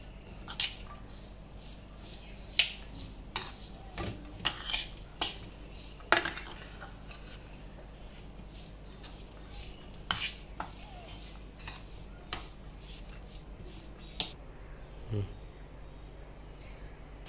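A spoon stirs rose essence into a sweet jaggery or sugar filling in a bowl, giving quiet, irregular clinks and scrapes against the bowl over a soft background.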